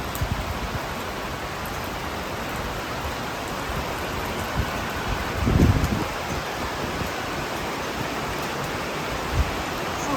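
Heavy monsoon rain pours down in a dense, continuous roar of drops that stays loud throughout, with a brief low rumble partway through.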